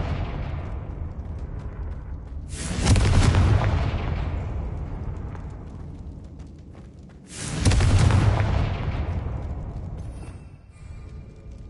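Two heavy blasts from the Confringo spell in a Hogwarts video game, each a sudden loud boom that rolls off slowly, spaced about five seconds apart over a low rumbling background.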